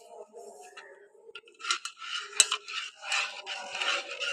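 Semolina halwa with sugar being stirred in a pan, a spoon scraping and rubbing against the metal in quick, uneven strokes, close and moderately loud, with a few brief clinks.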